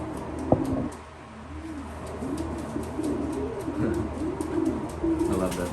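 Pigeons coo repeatedly in a racing pigeon loft, the rolling calls close and moderately loud over a low background hum, with a brief knock near the start.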